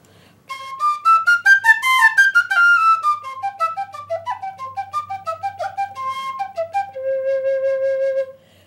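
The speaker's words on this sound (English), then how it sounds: "a conical penny whistle" A conical penny whistle plays a lively, bright melody of quick, clear notes, ending on a held tone, solo and close.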